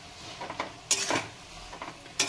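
Spice paste for a kochur loti (taro stolon) dish being stirred in a pan, heard as a few scattered scrapes and clinks of a spoon against metal, close and moderately loud with short quiet gaps between strokes.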